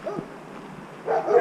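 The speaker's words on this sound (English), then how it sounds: "Of course, we got dogs." A big dog gives a short bark followed by a second rougher bark a moment later, close by and fairly loud, with no talking.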